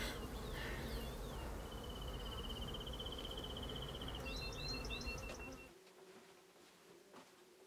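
Honeybees buzz faintly at a beehive, a continuous, soft insect drone with a few thin whining tones, fading and thinning in the last couple of seconds.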